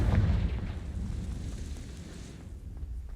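A Confringo spell blast in the video game Hogwarts Legacy lands as a deep, rumbling boom that fades over a few seconds.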